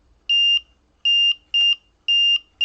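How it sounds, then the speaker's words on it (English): A Delkim carp fishing bite alarm sounding a series of five short, loud, pure electronic beeps at irregular intervals, alone in an otherwise quiet setting. "You see, I'm only getting 2 beeps."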